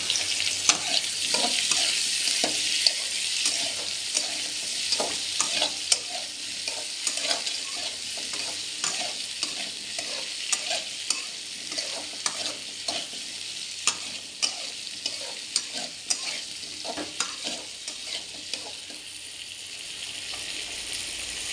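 Chopped gourd sizzles and fries in a hot pan while a utensil scrapes and stirs it in steady, repeated strokes, close and continuous with no talking.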